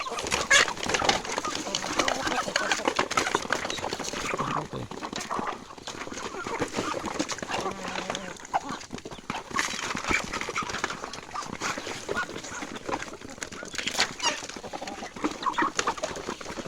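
Chickens and ducks cluck and call continuously in a morning farmyard, a dense, steady flock din with overlapping calls and no talk.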